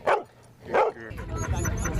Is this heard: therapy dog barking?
yes